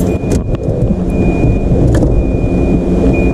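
A Volvo car engine, freshly fitted with new spark plugs, runs with a loud, close, steady rumbling idle and no break.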